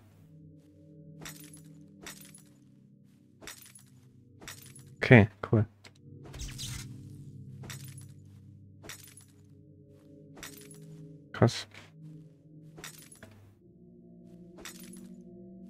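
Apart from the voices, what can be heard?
glass-like shattering of bones breaking in video game Dwarven Realms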